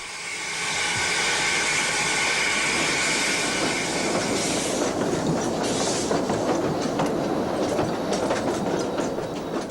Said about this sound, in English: The southbound train drifts out of the station, the compound Malay tank making easy work of the falling grades